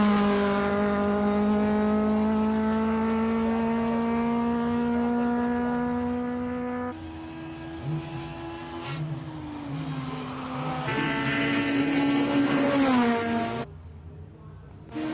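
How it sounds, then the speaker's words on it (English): A Cosworth-powered March 79B race car climbs the Simola hill climb. The engine screams as it revs, with its pitch climbing and dropping through several gear changes, then fades into the distance. "Charles Arton heading up in his March 79B Cosworth powered March."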